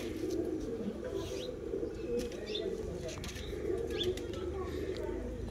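Pigeons in a loft in R.S. Pura, Jammu and Kashmir, coo in soft, low repeated calls close by, with faint chirps and occasional wing flutters around them, and someone talks over the birds.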